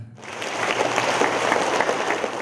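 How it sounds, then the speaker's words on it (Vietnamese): A crowd at a Buddhist Dharma assembly breaks into steady, enthusiastic clapping that swells quickly and holds at a fairly loud, even level. "quý vị cũng cho họ một tràng pháo tay"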